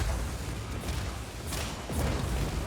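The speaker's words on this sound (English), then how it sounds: "You rain explosions, right?" Red barrels explode in the video game Just Cause 4, a few sharp booms bursting out of a dense, rumbling game soundscape, with two strong blasts close together near the end.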